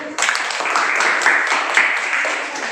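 A classroom group claps together, a short burst of steady, close applause that starts abruptly and holds evenly for a couple of seconds.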